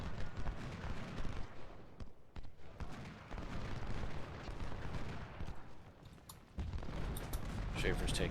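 Gunfire from fortifications in a Civil War video game: scattered musket shots and rolling volleys, distant cracks and booms layered over a continuous battle din.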